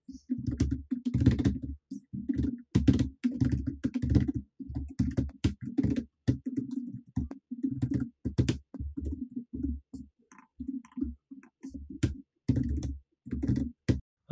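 Keys clatter in quick irregular bursts as code is typed on a computer keyboard, close and fairly loud, with brief pauses between runs and no talking.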